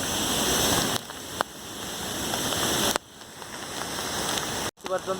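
Steady rushing water from Gundichaghagi waterfall in Keonjhar on a rainy day, with brief breaks and a short voice near the end.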